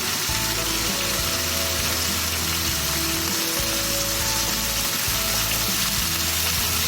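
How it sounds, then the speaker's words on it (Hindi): Turkish Adana kebab frying in a pan of oil, giving off a loud, steady, dense sizzle that continues unbroken throughout with no voices. "अब 5 मिनट हम और उसको देंगे ताकि दोनों साइड से बहुत अच्छे से सिक जाए।"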